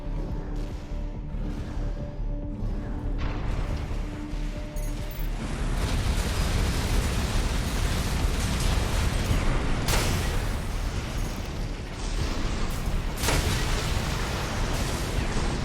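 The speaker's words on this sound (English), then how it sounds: "Resulting overload will cause the reactor core to explode." A reactor core overloading and exploding in Armored Core VI, heard as a dense, sustained roar of rumbling blasts and mechanical clatter that swells midway and keeps going with sharp bursts.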